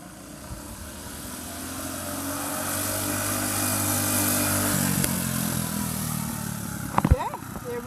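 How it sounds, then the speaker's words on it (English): A vintage minibike engine running on Lucas-boosted gas at a minibike run holds a steady, rising drone with a strong harmonic buzz that builds, then a brief knocking burst near the end, with outdoor background noise. "we're doing a mini bike run"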